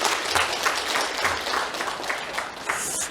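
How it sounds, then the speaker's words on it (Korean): Lecture audience of older adults applauding to welcome a professor, a steady wash of many hands clapping close by for about three seconds with no voices. "너무 박수를 열심히 환영해"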